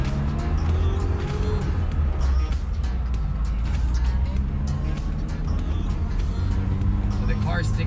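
A jade green manual-transmission car with gold BBS wheels and no power steering drives along, its engine rumbling steadily and loud throughout, with faint road noise and occasional ticks above the drone.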